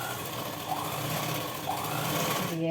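A sewing machine runs a blouse seam in a steady close whir of continuous stitching, slowing briefly before it stops at the end.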